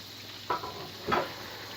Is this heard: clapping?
no